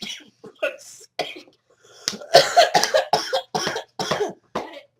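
A man coughs hard in a fit indoors, a run of harsh, rasping bursts that starts with a few scattered coughs and builds into a tight cluster of loud, close hacks.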